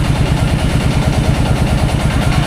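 A boat engine chugs loudly and steadily in an even low rhythmic thump as the boat pulls in to a ghat, close and unbroken.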